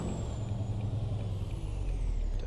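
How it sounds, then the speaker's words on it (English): Engine brake on a truck in the video game American Truck Simulator, heard as a steady, loud, low droning rumble that holds for a couple of seconds, with no talking. "that's the first time I've ever heard that jake brake"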